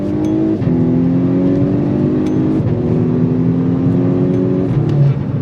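A stage 2 tuned VW Golf R Mk6 with all-wheel drive and a 2-litre four-cylinder revs hard through short dual-clutch gears, the engine note rising and dropping sharply at quick, repeated upshifts from inside the cabin.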